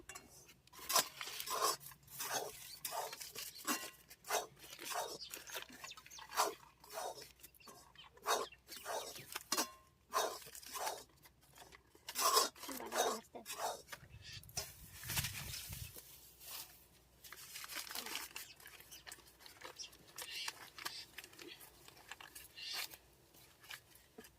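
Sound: rice flour being dry-roasted and stirred in a pan

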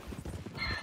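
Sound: donkey making pained noises in a video game

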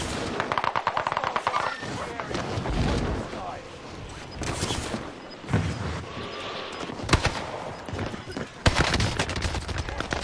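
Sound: gunfire in a video game

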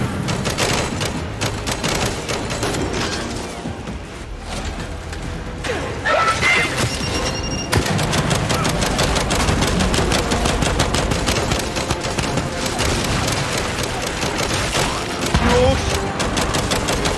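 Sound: gunfire in the video game Gears 5

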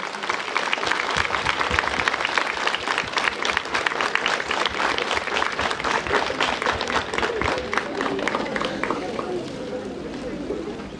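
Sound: audience applause for the mayor

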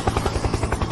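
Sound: helicopter sound effect

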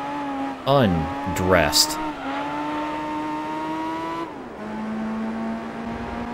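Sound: race car engine revving at full throttle in Gran Turismo 3 video game

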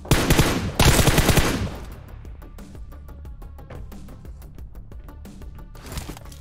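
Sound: gunfire in a shooter video game

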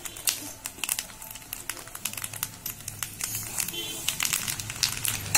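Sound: mustard seeds crackling in hot oil for tempering

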